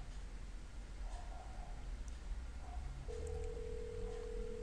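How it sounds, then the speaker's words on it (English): An outgoing VoIP call placed through an Elastix phone system rings through to a cell phone, a faint tone over steady line hiss that turns into a sustained ringback tone partway through. "So you can hear it's now ringing on my cell phone."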